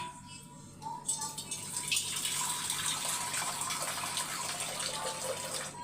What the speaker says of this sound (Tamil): இன்னும் கொஞ்சம் கூட தண்ணி ஊற்றணும்